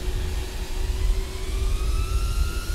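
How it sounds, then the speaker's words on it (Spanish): Steady jet engine roar of a FedEx Airbus A300-600 in a flight simulator, a continuous loud low rumble with faint whining tones, heard alone without talk. "Los motores se oyen muy bien."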